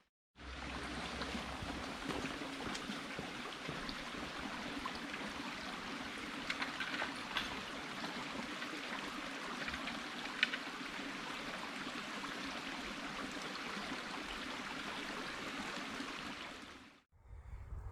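A river stream flows beside a woodland path in the Peak District's Hope Valley, a steady, moderately loud rushing babble that continues without a break, with no talking.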